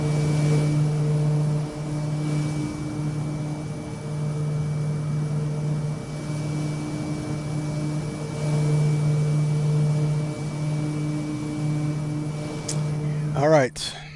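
A single-engine Kodiak 100 turboprop in a flight simulator drones steadily at high power through a takeoff roll, a constant buzzing hum with someone talking over it now and then.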